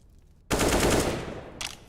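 AK rifle fire in the video game CS:GO: a short, loud burst of automatic shots close by, then a brief second burst.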